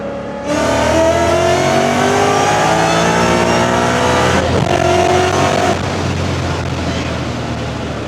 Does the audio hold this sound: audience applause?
no